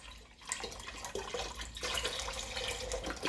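Liquid poured into a pot of chicken noodle soup, a continuous splashing gush close by that starts after a short quiet moment and swells steadily louder.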